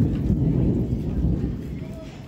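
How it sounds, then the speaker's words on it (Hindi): Steady heavy winter rain with a low rumble of thunder rolling underneath, loud and continuous throughout, no speech. "बारिश स्टार्ट हो गई है"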